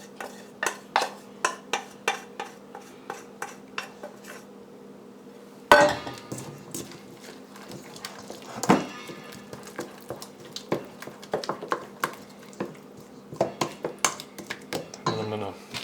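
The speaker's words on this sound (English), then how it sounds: "add all of the dressing to this and then mix this with the onions and the cilantro" Shrimp salad is mixed with dressing, onions and cilantro in a bowl, producing repeated soft clinks and scrapes of a utensil against the bowl in a steady rhythm, with a louder clatter partway through.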